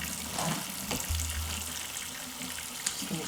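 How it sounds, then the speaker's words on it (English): Cold tap water runs over cooked pasta shells in a kitchen sink, a steady splashing hiss with a low gushing rumble at the start, fairly close and without talk. "we're going to run it underneath cold water to stop it from cooking"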